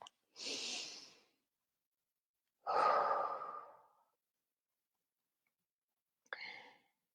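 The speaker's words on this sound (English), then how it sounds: "Stop tapping and take a nice deep breath." Three slow, deep breaths in a quiet room, each a soft whooshing inhale or exhale lasting about a second, with a short sniff-like breath at the end and silence in between.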